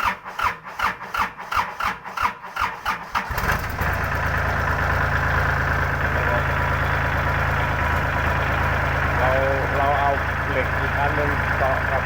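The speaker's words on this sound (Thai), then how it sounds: "ตอนนี้รถไถติดแล้วครับ" A walk-behind farm tractor engine is cranked in rhythmic pulls for a few seconds, then catches and settles into a loud, steady mid-pitched running drone, close by.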